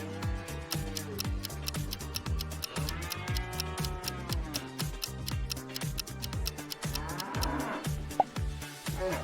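Cows mooing in a riddle game, several long drawn-out lowing calls overlapping one another, loud and continuous over a busy backdrop of sharp ticking clicks.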